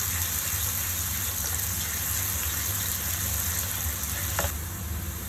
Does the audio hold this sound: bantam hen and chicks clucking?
no